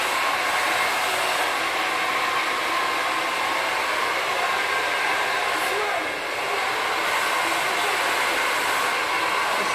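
Hair dryer blowing hair for a Brazilian blowout: a loud, steady, close whooshing whir that runs unbroken for about ten seconds and dips briefly around the middle.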